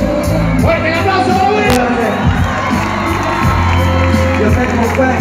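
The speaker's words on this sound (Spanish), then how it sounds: "¡Fuerte el aplauso!" A crowd at an open town council meeting bursts into loud cheering and whooping, with shouts, excited voices and a busy babble of people talking over one another, all close and sustained throughout.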